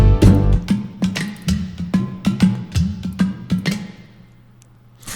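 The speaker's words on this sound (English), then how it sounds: "I found this patch, and these are called udus." Udu clay pot drum hits from a Spitfire Percussion Swarm sample library play a loose, rapid pattern of deep hollow thumps with bright slaps, close and fairly loud, thinning out and fading near the end.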